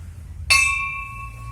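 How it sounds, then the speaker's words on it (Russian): A single strike of a cracked bell rings out sharply, its metallic tone holding briefly before fading away over a second or so. "Поет колокол."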